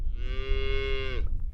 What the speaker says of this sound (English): Do you think that's a pretty cow there?